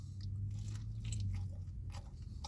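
Bites and chewing on crunchy Little Caesars Crazy Puffs cheesy bread, close-up muffled crunches and mastication repeating steadily through a couple of seconds.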